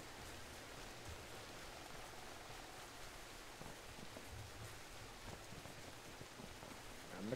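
In a Bigfoot hunting video game, rain falls steadily as a soft, even hiss with scattered droplet patter, faint and continuous, closing on a brief louder knock.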